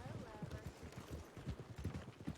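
Horse hooves clip-clop at a steady walking rhythm in the Red Dead WildRP video game, faint and continuous, with some speech underneath.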